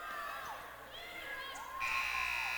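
Buzzer sounding at the end of play in a girls' varsity high school basketball game, a loud sustained electronic tone over crowd noise and arena chatter in a gym.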